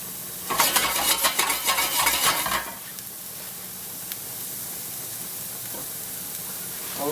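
Ginger sautéing in a pan for Thai peanut curry chicken gives a loud, crackling sizzle for about two seconds, then drops to a faint, low hiss after the heat is turned down. Nobody speaks.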